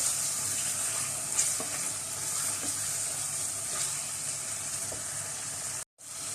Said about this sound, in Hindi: और कसूरी मेथी ये भी डाल देंगे, मिक्स करेंगे।